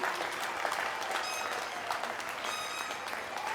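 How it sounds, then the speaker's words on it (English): Sustained applause from a large audience at a college commencement ceremony, a dense continuous roar of clapping hands with some cheering tones mixed in, steady in level throughout. "Let's give them all a big round of applause for the new ENV website."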